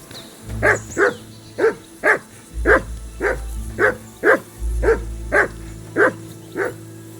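In the medieval video game Kingdom Come: Deliverance II, a dog barks repeatedly in a steady rhythm, about eleven loud woofs in seven seconds, over a low background rumble.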